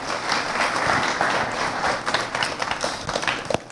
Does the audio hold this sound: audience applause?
yes